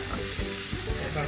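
Prawns sauté in a pan over lowered heat, a steady close sizzle with soft stirring scrapes running throughout with no talk.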